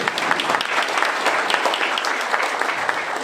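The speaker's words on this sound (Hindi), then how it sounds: "आप लोग जोरदार ताली बजा के स्वागत करिए" Loud, dense applause from an audience at a district president's motivational gathering in Sultanpur, many hands clapping steadily and close for about three seconds with no break.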